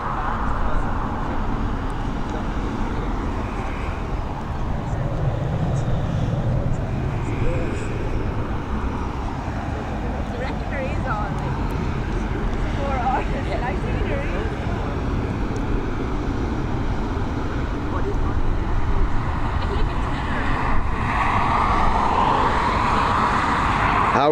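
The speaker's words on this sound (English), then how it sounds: "this aircraft, heading over to Charles de Gaulle" Aircraft departing Dublin Airport for Charles de Gaulle, a continuous low engine rumble with roadway traffic mixed in, fairly distant and steady throughout, with people talking over it.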